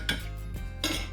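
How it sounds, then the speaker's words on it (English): A metal spoon scrapes and clinks against a pan while adobo sauce is spooned up, with two short clinks and a soft scrape, close and quiet, no talking. "So what you want to do is just spoon all of this sauce"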